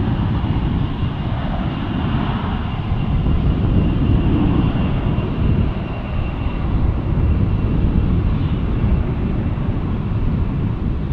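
An airliner in One World livery roars past at Dallas Fort Worth airport, a loud, steady jet rumble that holds evenly throughout with no talk.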